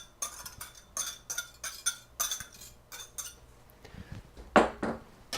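Eggs and yogurt being whisked together in a bowl: a rapid, steady run of close, clinking utensil strikes against the bowl, followed by a few louder knocks near the end, with no talk.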